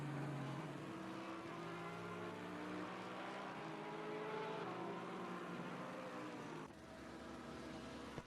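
Race cars lapping the Nürburgring during a six-hour endurance event in a sim racing game, with a McLaren and a Lamborghini among them, produce a steady distant engine drone that shifts pitch near the end, with no talk.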